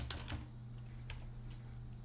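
Keys clack on a computer keyboard as a Docker copy command is entered for a Laravel install on Ubuntu: a quick burst of several keystrokes at first, then a few sparse separate taps, all fairly quiet over a steady low hum, with no speech.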